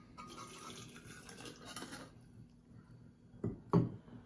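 Hot water pours into a thermos holding powdered ground herbs, a soft liquid trickle under quiet room noise, followed by two short, louder splashes near the end.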